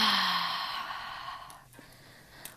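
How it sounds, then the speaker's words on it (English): A slow, deep breath is drawn in and let out through the mouth as a soft, breathy whoosh that fades gradually, close and quiet, followed by near silence and a faint click. "Let's take a big deep breath in and out."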